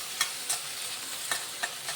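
Onion, tomato, green chillies and ginger frying in oil, a low steady sizzle broken by several light scraping stirs of a spatula against the pan, quiet and close with no talk.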